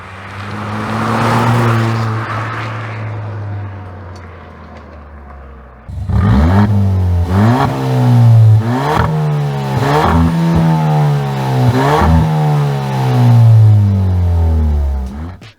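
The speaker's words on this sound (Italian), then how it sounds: "Avete appena sentito quindi quali sono le differenze dello scarico della Swift Sport ibrida." A Suzuki Swift Sport hybrid with a straight-through exhaust, heard from outside, idles with a loud low drone, then gets a run of sharp rev blips that rise and fall about every second.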